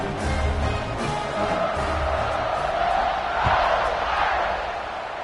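Stadium crowd in the College Football 26 video game, a steady roar of many voices with swelling cheers and a few shouts rising midway, continuous and moderately loud throughout.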